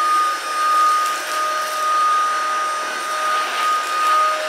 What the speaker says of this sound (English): Now, we're vacuuming my rug that hasn't been vacuumed in a few days.